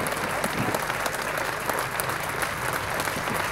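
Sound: applause at Jimmy Murphy statue unveiling, Old Trafford

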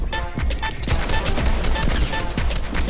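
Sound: gunfire in the video game Fortnite

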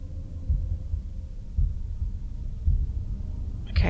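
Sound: heartbeat sound in video game The Room

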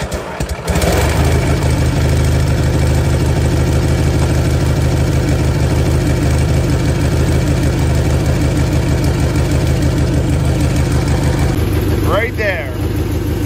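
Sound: Cub Cadet 982 lawn tractor engine with dual mufflers running

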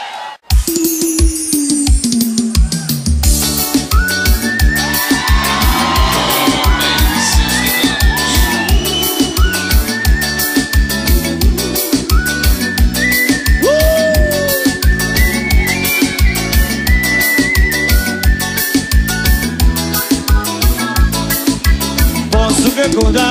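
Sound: audience applause and cheering at a live show

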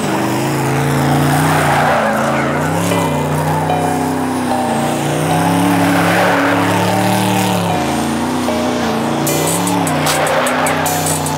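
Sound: high-horsepower car doing donuts, tires squealing

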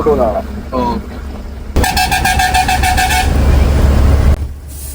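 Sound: school bus air horn honking

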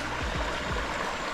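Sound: river flowing in Jamaica

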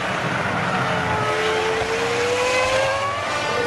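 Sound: Ferrari Formula 1 race car accelerating at Suzuka

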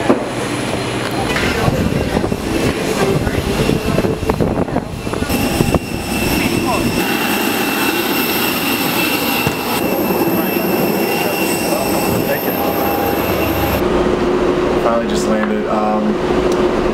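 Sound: airport ambience with jet engines

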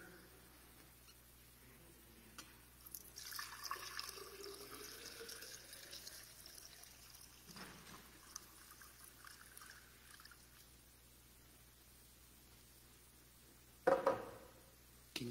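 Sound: water being poured

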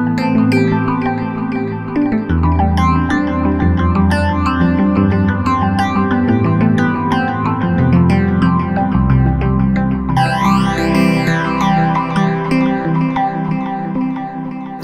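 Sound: Roland System 8 synthesizer native engine sound

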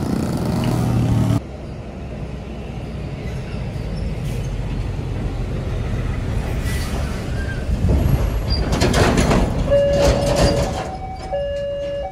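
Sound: train passing

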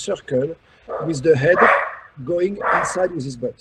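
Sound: dogs barking

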